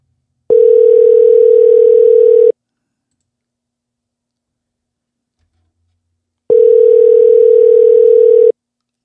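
Two loud, steady electronic telephone ringing tones, each lasting about two seconds, separated by a long silent pause.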